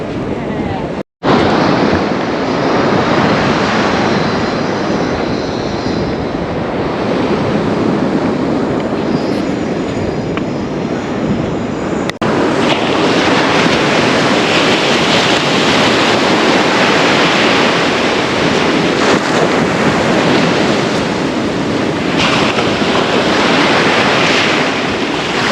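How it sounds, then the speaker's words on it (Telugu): Sea waves surge around a floating bridge at Beypore Beach, Kozhikode, as a steady, loud roaring wash heavily buffeted by wind on the microphone, with no clear gaps. "అలలు లేపుతున్నాయి అన్నమాట మనల్ని ఈ ఫ్లోటింగ్ బ్రిడ్జ్ మీద"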